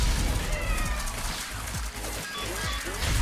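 Cats meow repeatedly in the video game Tokyo Jungle, several short rising and falling cries layered over a dense, loud game soundscape with low rumbling.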